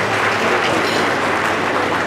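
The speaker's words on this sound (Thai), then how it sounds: "ขอเสียงปรบมือเป็นกำลังใจให้กับเจ้าบ่าวของเรานะครับ" Guests at a Thai wedding reception applaud the groom, a loud, dense, even wash of clapping from a large crowd that holds steady throughout.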